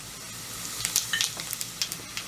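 Chana dal, urad dal and cumin frying in hot oil for a tempering, a light crackle of small pops and sizzles close by, with no voices.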